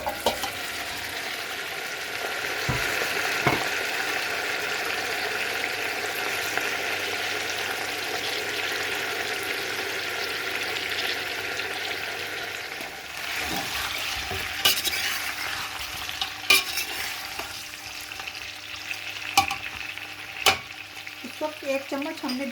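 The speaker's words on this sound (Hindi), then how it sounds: "अब हम इसमें डालेंगे ये चिकन।" Steady sizzling of chicken frying in a hot pot for chicken pulao, with occasional stirring and light clinks of a utensil against metal.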